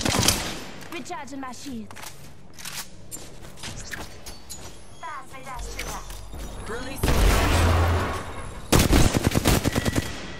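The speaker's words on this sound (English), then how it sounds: "Shooting. I'm getting shot at." Gunfire in the battle royale shooter Apex Legends: rapid automatic bursts and single shots fire repeatedly, building to loud, dense volleys near the end, with game voice lines and mechanical clicks mixed in.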